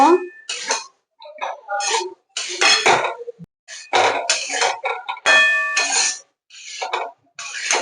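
Fried elephant foot yam pieces are stirred into a spice masala in a pan, with intermittent clinks and scrapes of a utensil against the metal. The bursts are short and uneven, and someone talks over them.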